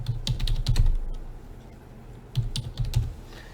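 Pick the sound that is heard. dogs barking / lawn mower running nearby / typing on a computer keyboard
typing on a computer keyboard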